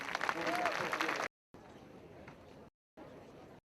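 A burst of crowd applause for two teams at the 2013 Queens Cup polo final fills about a second, loud and dense, then broken into quieter stretches of murmuring crowd noise with abrupt cuts.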